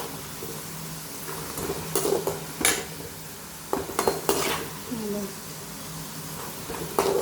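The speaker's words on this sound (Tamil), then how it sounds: "இப்போ ஒரு பக்கம் உருளைக்கிழங்கு ஃப்ரை ஆகுது." Potatoes frying in oil: a soft background sizzle punctuated by clinks and scrapes of a utensil against the pan, with occasional talk alongside.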